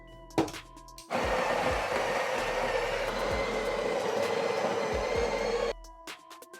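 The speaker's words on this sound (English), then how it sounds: "then grind your coffee." Coffee grinder grinding an 18-gram espresso dose, a loud steady whirring grind lasting about four and a half seconds that starts and stops abruptly, with faint clicks before and after and no speech.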